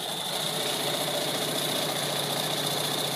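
A sewing machine runs steadily as it stitches the wrong sides of pillowcase fabric together, giving a continuous, close, even motor whir with a fine rapid pulse throughout and no talking.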